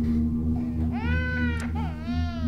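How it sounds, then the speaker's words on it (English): A baby in a scary short film cries in wavering, drawn-out wails, fairly clear over a steady low electrical hum. "I hear her crying."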